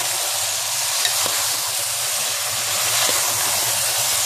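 Mixed vegetables with peas and capsicum frying in a pan for a sabzi, a loud, steady close sizzle and hiss throughout with faint stirring taps.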